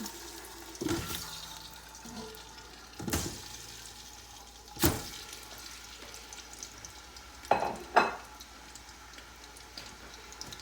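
Pieces of meat fry in oil in a couscoussier with a soft, steady sizzle, broken by about five sharp clattering knocks as pieces drop or are stirred in the pot.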